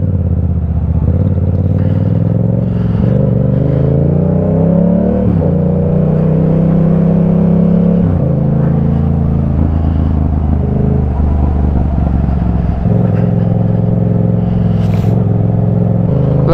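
Yamaha MT-07 Vitality motorcycle engine on a frozen winter morning, running loud and close with repeated revs rising and falling over a steady idle, no talk over it.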